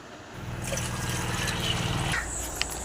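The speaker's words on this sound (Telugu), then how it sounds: "చూడండి, వాటర్ కూడా వేసుకున్నాను" Water poured into a pot of sambar with tamarind pulp, a steady close-up gush and splash that lasts about two seconds before it stops, followed by a faint clink.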